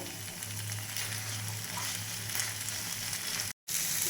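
Spiny gourd (kakrol) pieces fry in a pan over a gas flame with a faint, even sizzle that continues steadily, broken by a brief cut near the end.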